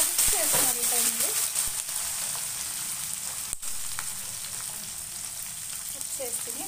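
Coriander stems and green chillies frying in oil for a tempering, a constant crackling sizzle throughout while someone talks over it.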